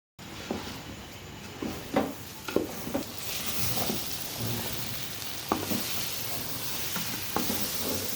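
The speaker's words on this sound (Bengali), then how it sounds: "তার ভিতরে আমি চালটা দিয়ে ভালো করে ভেজে নিচ্ছি" Rice fries in mustard oil with braised beef for tehari, a continuous close sizzle broken by intermittent scraping and clanking as a spoon stirs the pot.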